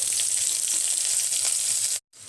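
Onion, garlic, three dried red chillies and panch phoron sizzle in hot oil, a bright, steady close-up crackle that cuts off briefly near the end.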